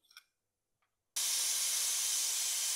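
Steam hissing from a pressure cooker used for cooking country chicken, a loud steady broadband hiss that starts abruptly after a moment of near silence and holds on continuously.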